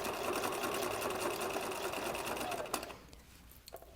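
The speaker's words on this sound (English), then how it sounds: "we just sew." A sewing machine stitches an invisible zipper into fabric, a loud, rapid, continuous mechanical whir that stops near the end, leaving a few faint clicks.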